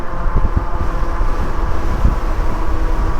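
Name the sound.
wind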